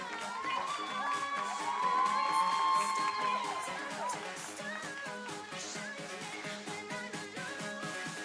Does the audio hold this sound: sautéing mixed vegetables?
no